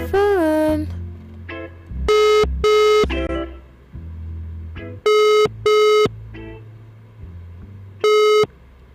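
A telephone ringing tone sounds in short paired bursts, repeating three times across the stretch, loud and electronic, with quieter tones and background sounds in the gaps between the rings.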